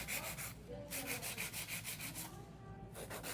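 An acrylic nail is filed with a 100-grit file in quick, even back-and-forth strokes, a close, steady scratchy rasp with brief pauses between passes.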